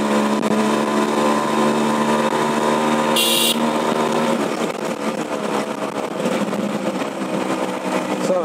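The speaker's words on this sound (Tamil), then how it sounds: "வண்டி ஒரு தூக்கு தூக்கும் பாருங்க." A Suzuki Max100 motorcycle, modified in the style of an Rx100, revs and pulls away with a loud, continuous engine drone that roughens as it accelerates, with a brief high hiss partway through.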